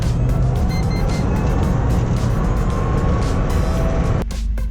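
A Renault Twizy electric micro car pulls away and accelerates on a road, giving a steady close whine with tonal hum over rumbling tyre and road noise.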